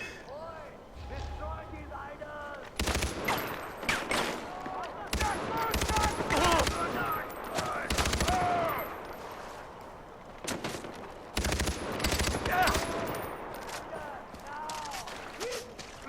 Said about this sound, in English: He's got the machine gun.